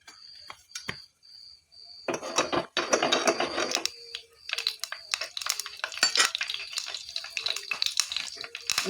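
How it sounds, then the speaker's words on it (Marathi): Cumin and mustard seeds hit about three spoons of hot oil in a small pan and set off irregular sizzling and sharp crackling pops. After a brief quiet start the spitting comes in close, dense bursts. "चरचर व्हायला लागले."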